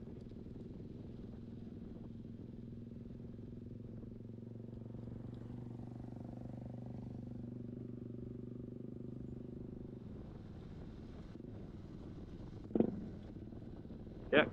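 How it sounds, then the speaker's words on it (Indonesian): Loud motorcycle engine droning close behind a moving Yamaha Lexi 125 scooter on the road, a steady low rumble that swells midway and then fades, followed by a couple of sharp knocks. "Dulu ada motor berisik banget lagi di belakang."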